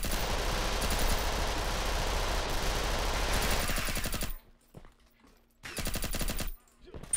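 Automatic gunfire from the video game Red Crucible 2 rattles in loud continuous bursts, with a short pause before another sustained burst.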